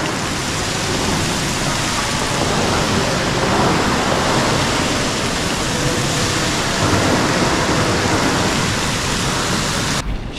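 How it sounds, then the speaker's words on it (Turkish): Hot spring water gushes steadily into a pool in Karlovy Vary, making a loud, continuous rushing and splashing roar that holds unbroken for the whole stretch. "Sıcacık sular fışkırıyor arkadaşlar şehrin her yerinde."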